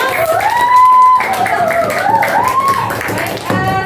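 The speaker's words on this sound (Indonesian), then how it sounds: "Kasih aplaus untuk kelompok." A classroom of students claps for a group, a dense burst of hand claps close by while a voice sings or talks over the applause throughout.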